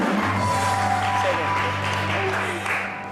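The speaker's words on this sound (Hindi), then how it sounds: "तालियां बजा के बता दें यार।" A studio audience claps steadily through a Satrangi entertainment show segment, a dense wash of applause held at an even level for a few seconds with a faint musical tone beneath and a slight fade at the end.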